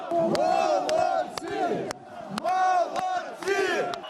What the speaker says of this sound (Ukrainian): А перед сценою була вже справжня овація.